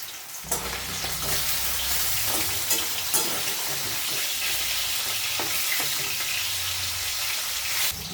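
Steady, crackling sizzle of hilsa fish frying in hot oil, continuous and fairly close, with a few sharper pops and light clinks.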